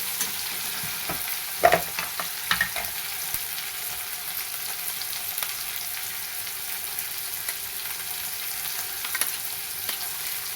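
Finely chopped tomatoes fry in oil for a gawar bhaji, a soft steady sizzle broken by a few sharp spoon scrapes and clinks against the pan as they are stirred.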